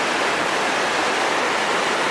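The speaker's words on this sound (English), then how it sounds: "check out this beautiful river water" Water pours at Benta River Falls in Westmoreland, a loud, steady, close rush of white-noise roar with no pauses.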